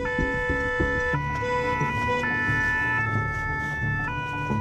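An ambulance siren wails through heavy rush-hour city traffic, its steady tones shifting in pitch over a constant low rumble of engines, close and continuous throughout.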